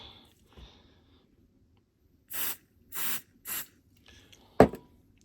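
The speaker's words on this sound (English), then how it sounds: "I'll try a shot of spray into it then, and just keep tapping it" Three short hissing blasts of contact cleaner sprayed into a cheap red bike light's faulty switch in quick succession, followed by a single sharp click, in an otherwise quiet room.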